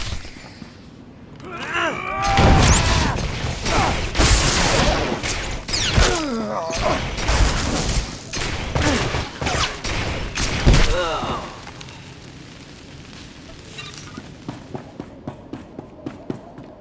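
Blaster gunfire erupts in a Star Wars: The Old Republic scene: a loud, dense burst of shots and impacts over several seconds, then sparse, fainter shots trailing off.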